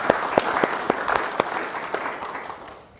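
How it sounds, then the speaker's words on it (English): An audience at a political forum in a community theater gives a round of applause: dense, steady clapping with a few sharper claps standing out, slowly thinning and fading over about three seconds. "Give them a nice round of applause."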